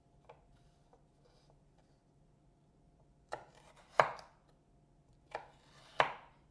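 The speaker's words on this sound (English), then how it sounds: "I kind of prefer to just cut them into quarters here and then cut it into quarters again just to give it little triangles" A knife chops vegetables, including carrots, into small triangles on a cutting board: a few faint taps, then four sharp, close strikes spaced about a second apart.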